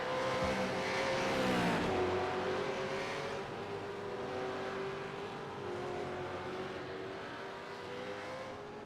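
A V8 race car in iRacing at Imola revs hard, then the tone falls as it shifts and settles into a sustained engine whine, fading a little as it carries on.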